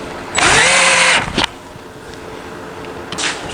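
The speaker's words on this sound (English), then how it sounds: "now I'll put the two screws in the back to stabilize it" A power drill or driver whirs loudly for about a second as screws go into the back of a lightweight folding camping table, then a brief second burst follows after a pause.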